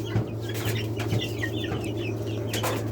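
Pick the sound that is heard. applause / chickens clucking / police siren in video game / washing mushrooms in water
chickens clucking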